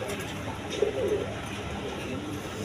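Pigeons in a loft give a soft, brief throaty coo near the start, set against a low murmur of background noise, close and quiet.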